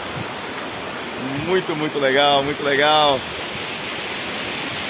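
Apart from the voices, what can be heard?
Cachoeira das Fadas waterfall, Conselheiro Mata, Diamantina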